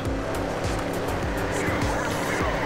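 Racing car in the Trackmania Turbo video game drifts with steady engine roar and repeated tire squeals, loud and continuous throughout.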